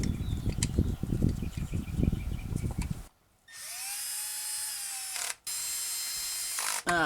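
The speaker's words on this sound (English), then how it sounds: "I've got this drill set with, it's got a clutch, and so I've got it set at a fairly low setting just to get those snug down" A cordless drill with its clutch set low runs in close bursts, snugging NGK iridium spark plugs into a 2005 Toyota Corolla 1.8L 1ZZ-FE engine, with whirring spin-ups, brief pauses, and a clicking stop, after a stretch of handling noise.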